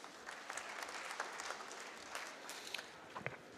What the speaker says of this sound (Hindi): जो तालियां थोड़ी सी कमजोरी से बज रही थी